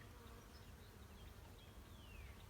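Honey bees from a package being installed into a hive, a steady, faint, continuous buzz of many wings around the queen cage, with no voices.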